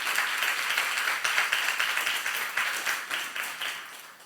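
Applause from a church youth service congregation: a dense, continuous patter of many hands clapping at close range, holding steady before easing off slightly at the end.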